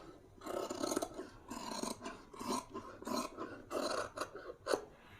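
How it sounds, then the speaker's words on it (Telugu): Blouse fabric being cut produces close, dry rasping bursts that repeat in a loose rhythm of short strokes, fairly quiet and with no talking. "ఇక్కడి నుంచి కటింగ్ చేసేద్దాం"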